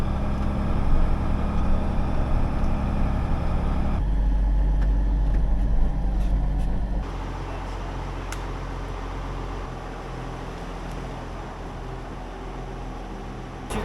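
A farm tractor with a hay rake hitched idles nearby, a loud steady low engine rumble with airy noise that drops to a quieter hum partway through.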